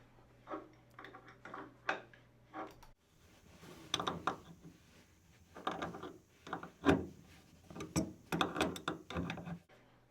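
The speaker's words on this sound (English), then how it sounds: "Just unscrew it with the wrench until you can do it by hand" Wrench turning the fitting on a toilet supply line at a shut-off valve, giving a series of close metallic clicks and scraping ratchet-like turns in short irregular bursts, with some handling knocks between them and no talk.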